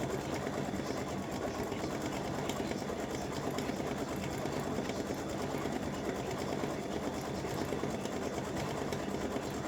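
An embroidery machine stitches a Valentine roses mug rug design in the hoop, giving a steady, fast, even mechanical whir and needle chatter that runs throughout at a moderate, close level with no voices.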